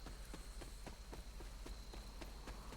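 A character runs through the rain in the video game Marvel Midnight Suns, with quick, evenly spaced footfalls of about four steps per second over a soft rain patter.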